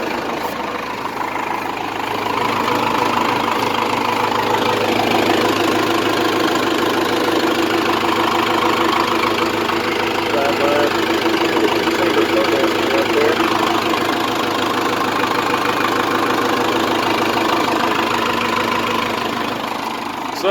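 A Cummins diesel engine idles steadily in a Ford F150 fitted with an Allison bus transmission, a continuous loud rumble with a faint knocking texture that holds for the full length.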